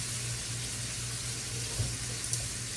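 A kitchen tap runs steadily while hands are washed, producing an even, close hiss of flowing water that covers the whole stretch, with a few faint clinks and no talking.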